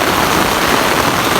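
Heavy typhoon rain pours down in a steady, dense broadband hiss, loud and continuous with no voices.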